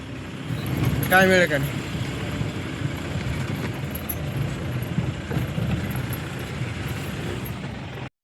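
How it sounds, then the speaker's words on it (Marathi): A car drives with its engine running steadily, a continuous road and engine rumble carrying on under people talking inside. "गाडी चालवायला लय मजा येते हो एका हातानं"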